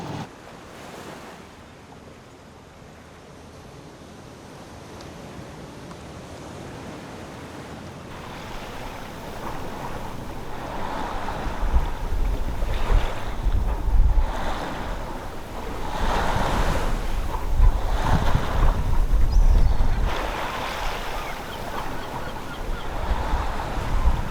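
A sailing boat moves across ocean waves in the Gulf of Alaska. Steady wind noise is broken by surf swells that build and break in a slow, rolling rhythm, growing louder partway through.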